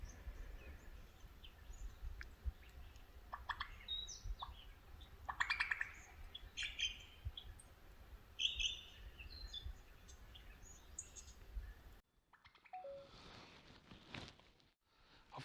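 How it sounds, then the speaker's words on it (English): Varied lyrebird calls and chirps ring out from bushland by a lake, somewhat distant and faint, with scattered whistles and a quieter stretch near the end. "I reckon the noise is coming from a lyrebird in the bush there"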